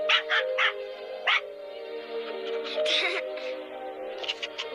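A puppy gives a quick run of sharp, high yips and small barks up close, followed by softer whimpering, with a person talking to it gently throughout.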